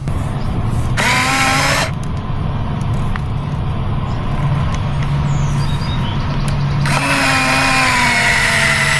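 A Fanttik S1 Apex electric screwdriver drives a screw into hard pressure-treated wood, its motor whining in two bursts, one about a second long and one near the end, over steady background noise.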